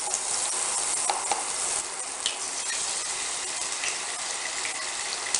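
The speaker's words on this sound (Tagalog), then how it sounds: "Gawin natin siya sunny side up na egg." An egg fries sunny side up in a little butter, giving a steady close sizzle with scattered pops and crackles throughout.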